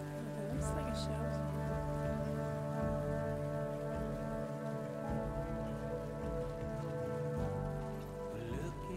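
Steady rain falling in the video game Death Stranding, a constant patter over a low droning tone, with no one speaking over it.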